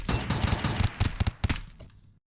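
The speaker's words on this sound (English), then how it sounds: "They're still taking shots at us, but they are fleeing indeed." Exchange of gunfire between colonists and raiders in the video game Rimworld, a quick rattling series of sharp shots at uneven intervals, some clustered, fading out after about two seconds.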